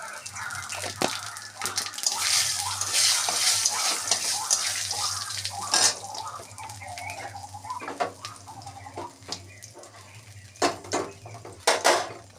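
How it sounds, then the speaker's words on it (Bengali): Dry chillies and Bengali five-spice sizzle in hot oil with a faint steady crackle, broken by a few sharp scrapes and taps of a spoon against the pan. "ফোড়ন দিতে দেবো শুকনো লঙ্কা আর পাঁচ ফোড়ন"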